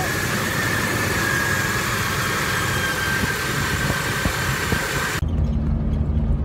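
A Jeep Wrangler 4.0L engine idles steadily right after starting, following a spark plug replacement, with a constant broadband rumble close to the mic that ends abruptly, leaving faint low hum.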